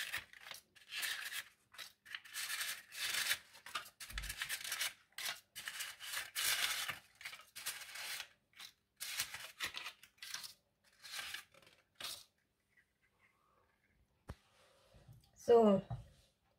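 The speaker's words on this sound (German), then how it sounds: "jetzt gebe ich hier in mein Muffinblech diese Papiertütchen" Paper muffin cases are set into a metal muffin tin while preparing stollen muffins, giving soft rustling, crinkling and scraping in bursts, with a voice talking over them.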